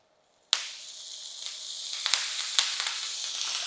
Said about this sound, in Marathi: मिरच्या इथे मी थोड्याशा गरम करून घेतल्या आहेत आणि आता आपण ह्याच्यात तेल टाकूया